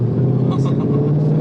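Ford Shelby GT500 Mustang V8 blipping through quick automatic downshifts, a deep burbling rumble punctuated by short throttle barks, heard from inside the car with a voice talking over it.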